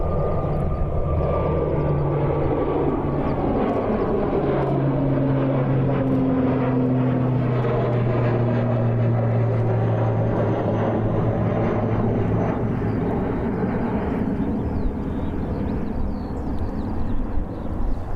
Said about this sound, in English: Oh, what a beautiful takeoff there.